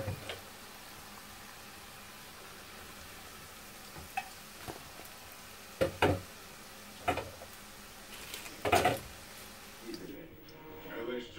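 Food sizzles softly in a pan under a low background hiss, with occasional sharp clicks and scrapes of stirring.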